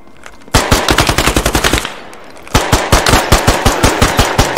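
Gunfire in the military shooter video game Squad: two loud, close bursts of rapid automatic fire with a brief pause between them, sharp regular shots with no talking.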